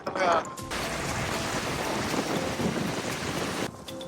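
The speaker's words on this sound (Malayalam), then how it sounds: "തെങ്ങ് വരെ മലന്ന് നിൽക്കുക, അത്ര കാറ്റാണ്." Strong wind at Qurum beach in Muscat, Oman, roaring as a loud, steady rush into the microphone, with brief quieter moments at the start and end.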